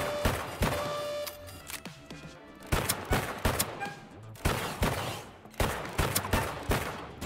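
Gunfire in the video game Deceive Inc: clustered bursts of rapid sharp shots in several volleys separated by short pauses, loud and close.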